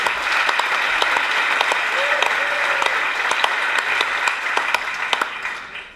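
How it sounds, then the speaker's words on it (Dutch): Sustained audience applause at a congress honouring the organisers, dense steady clapping that fills the room for several seconds before starting to fade near the end. "Mag je een groot applaus voor de organisatie?"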